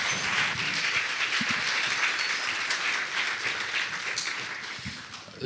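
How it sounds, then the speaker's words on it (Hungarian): A church congregation at a Sunday evening worship service claps together in dense, sustained applause, a loud, even wash of many hands that holds steady to the end with no speech on top. "Adjunk egy nagy tapsot a Marcéknak."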